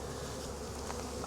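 Honeybees at an opened hive with the roof removed hum in a continuous, steady buzz, close and fairly quiet, with no talking.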